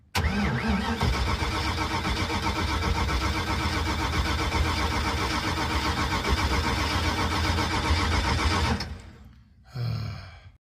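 An engine fitted with an Edelbrock 1405 carburetor, not drawing fuel, cranks steadily and loudly for about nine seconds without catching, stops, then gives one more short crank.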